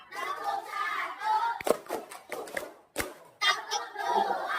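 Children in a classroom clap a counted pattern during a science lesson, a few sharp synchronized claps separated by gaps, with chanting voices of the class and teacher between and around them.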